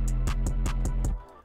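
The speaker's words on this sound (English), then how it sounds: "I added some stutters throughout the song," A beat with stutter effects: a low sustained bass and pad chopped into six quick, evenly spaced repeated hits, loud and alone, ending with a short tail.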